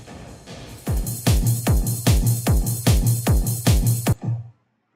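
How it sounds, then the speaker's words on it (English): A steady beat of drum hits, a dozen or so, each drowned in a long washy reverb tail that stops abruptly at the end. "See if I turn it all the way up, it's just all reverb."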